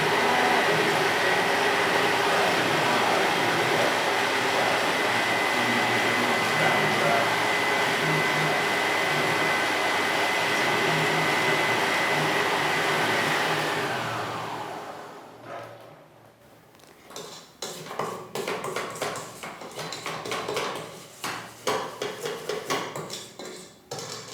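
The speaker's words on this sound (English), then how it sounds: "when you're mixing them with the mixing machine, you just have to stand there" Electric mixing machine churning cookie dough for melting moments cookies, a loud steady whir for about fourteen seconds, then stopping and giving way to irregular clattering and knocking.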